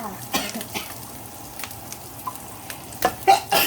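Minced pork stir-fried in a pan for a konjac spaghetti dish with dried chilies, giving a steady close sizzle broken by several sharp scraping stirs and clatters that grow busier toward the end.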